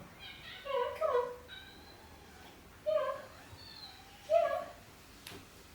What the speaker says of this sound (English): You can't just meow at me, you have to come in.